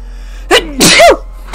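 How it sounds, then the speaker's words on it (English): A single loud, close human sneeze, a sharp intake then an explosive burst, heard alone against quiet background during a Banjo-Kazooie game session. "I'm about to sneeze, but I don't know when it's coming. And then it came out of nowhere"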